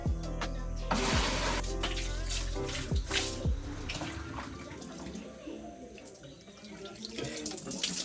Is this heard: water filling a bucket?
yes